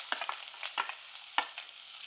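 Crushed shallots, garlic and ginger fry in hot coconut oil for a fish curry, giving a steady close sizzle broken by several sharp stirring scrapes, with no talking.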